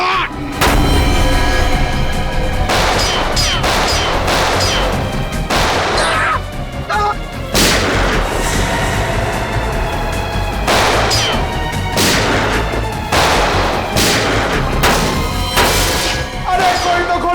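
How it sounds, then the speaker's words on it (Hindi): Gunfire in a TV crime drama, with repeated loud sharp bursts and crashes spread across a dense, busy soundtrack of music and effects, no clear speech. "मुझे भी गोली चलानी है।"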